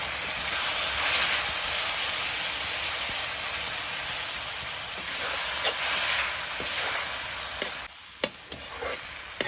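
Ground tomato paste frying in hot oil for a jackfruit curry gives a steady, close sizzle throughout, with a few sharp spatters and clinks near the end.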